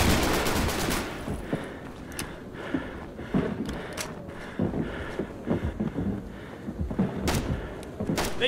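Suppressing machine gun fire in a war film, crackling bursts and thumping shots scattered irregularly over a windy background, some distant and some closer.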